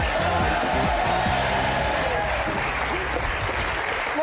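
An audience on a French television prank show applauds commentator Thierry Roland as he is introduced, a dense, steady wall of clapping that stays loud and continuous throughout.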